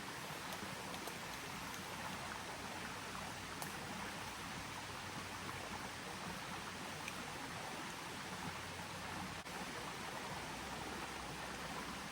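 A backyard creek flows with a steady, even wash of running water, continuous and fairly close, with no talking.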